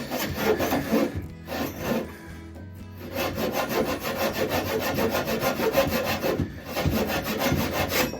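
A hand saw cuts starter slots in pallet wood with rapid, rhythmic back-and-forth rasping strokes. Close and loud, with short pauses between bursts of cutting.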